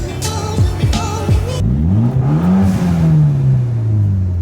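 A Mitsubishi Evo X with a straight-pipe exhaust revs and accelerates up close, loud and raspy, with a few sharp blips before a sustained pull that rises then eases off.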